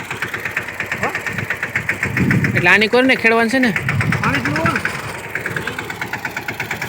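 A tractor engine chugs steadily with a rhythmic knock, close by, while someone speaks over it briefly in the middle.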